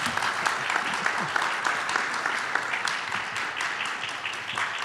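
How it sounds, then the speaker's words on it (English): Sustained applause from the audience at a county education budget forum, a dense patter of many hands that stays fairly even, with some faint talk mixed in. "Felder, a round of applause as well."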